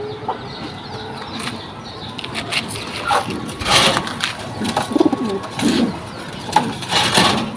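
Female racing pigeons coo softly at close range while wings flap in short bursts, with light rustling and background noise throughout.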